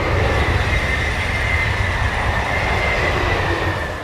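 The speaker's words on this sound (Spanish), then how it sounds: "Trenes bala," A Japanese bullet train rushes past at speed with a continuous loud roar, rail rumble and a faint high wheel whine, steady for several seconds before fading slightly at the end.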